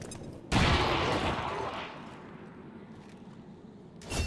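A frag grenade blast erupts loudly in the XCOM 2 video game, a sharp explosion that rolls into a long decaying rumble, with another burst of gunfire at the very end.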